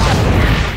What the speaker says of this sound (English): I also discovered you can blow up these lockers.